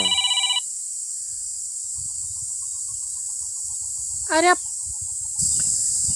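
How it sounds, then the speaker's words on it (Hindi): A phone ringtone chirps at the start, then a short rising electronic warble rings out later over a faint steady hiss, with soft low murmurs in between. "कैसे फोन आई गवाई।"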